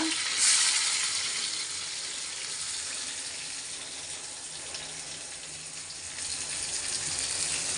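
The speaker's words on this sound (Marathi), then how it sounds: "पहिला लसूण लसूण तेलात टाकायचं मग लगेच मिरची" Garlic and green chili frying in hot oil, giving a steady bright hiss and sizzle that starts with a sharp burst and continues evenly, with no talking.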